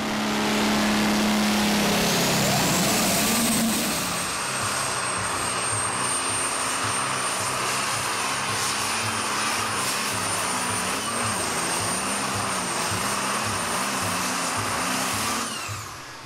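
A 3.5-ton diesel super stock pulling tractor roars down the track at a tractor pull, opening with a loud, high engine howl that settles into a sustained, wavering drone with shifting pitch until it fades near the end.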